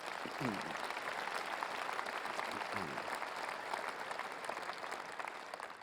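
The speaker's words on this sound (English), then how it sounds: "I wonder if we can give them a big round of applause for their hard work as well." Audience applause in a party conference hall, a dense, steady wash of clapping from a large crowd that carries on for several seconds before easing slightly, with a brief voice rising over it.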